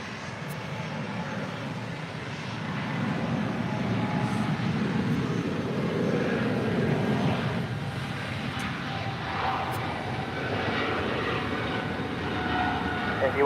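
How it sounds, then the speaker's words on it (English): A Dornier jet approaching to land at LAX, a steady broadband engine roar that holds fairly loud and even throughout, with no talk over it. "this is a Dornier jet coming in"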